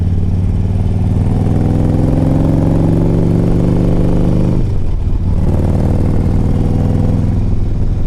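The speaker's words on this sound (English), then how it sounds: "This bike's got such a good sound" A Harley-Davidson Street Glide CVO motorcycle engine rumbles loud and close with a deep, throbbing V-twin burble, steady throughout with a brief dip in the middle before resuming its low drone.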